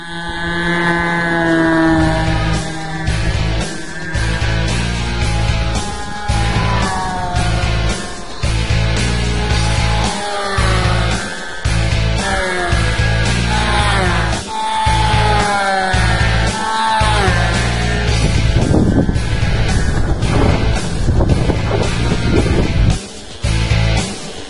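A Cessna Sport 40 Classic model trainer airplane in flight, its small engine a loud, continuous buzz rising and falling in pitch as it passes, with wind noise on the microphone throughout.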